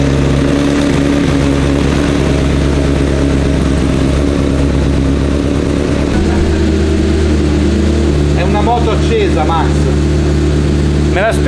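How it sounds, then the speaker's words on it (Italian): A Honda CBR600 racing motorcycle engine runs steadily with a loud, throbbing idle, rising slightly partway through, with faint voices in the background. "Max, è una moto accesa, eh?"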